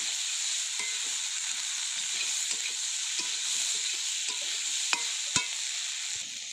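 Vegetables with ground chilli and ginger frying in a pan give a steady, fairly loud sizzle while a utensil scrapes and taps the pan in irregular strokes, with a few sharper clinks near the end and no talking.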